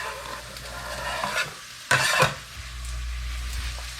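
Onions, scallions, celery and mushrooms sizzle in a hot pot as they are stirred. A steady fry hiss runs throughout, with a louder burst of scraping and sizzling partway through.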